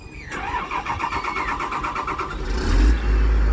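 A Komatsu PC210 excavator's diesel engine starts and settles into a loud, throbbing mid-pitched roar with a rhythmic pulse, heard close up and alone.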